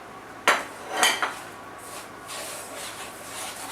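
Two sharp metal scrapes and clanks against a pot, then a softer rasp, as corn syrup and sugar are stirred together over medium heat, with a faint hiss afterward and no talking.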